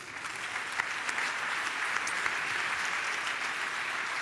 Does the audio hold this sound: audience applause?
yes